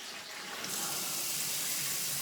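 Cold water poured into a soup pot for chicken noodle soup, a steady loud rushing splash that grows fuller and brighter partway through, alone and close.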